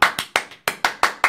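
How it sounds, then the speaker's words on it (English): Seven sharp hand claps in an irregular but steady rhythm, close and fairly loud, each with a short decaying tail, no voices. "Give her a round of applause."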